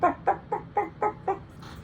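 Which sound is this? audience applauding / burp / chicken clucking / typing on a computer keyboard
chicken clucking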